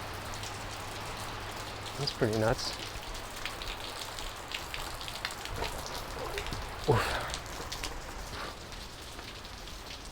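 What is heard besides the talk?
light rain falling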